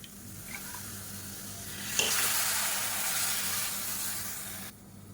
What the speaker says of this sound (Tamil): இப்போ இதில் கொஞ்சமாக தண்ணி சேர்த்துக்கலாம் நான் வந்து இந்த மிக்சியை அலசிட்டு அந்த தண்ணி சேர்க்குறேன்